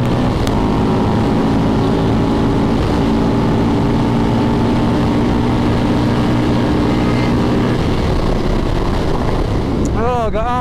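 A Suzuki GSX-R motorcycle's engine drones steadily at high revs while riding, loud and constant with wind rush, and the tone shifts near the end.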